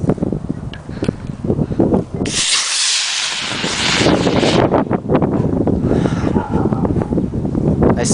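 Scratch-built model rocket motor igniting at launch, a sudden loud rushing hiss of exhaust that keeps roaring and fading for several seconds under a steady outdoor noise floor.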